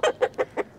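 Chickens in a backyard flock cluck in five short, evenly spaced bursts, close and fairly loud, with no talking.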